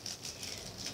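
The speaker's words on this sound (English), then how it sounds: "The rain." Faint, steady patter of rain, a soft continuous hiss with light irregular drops and no voices.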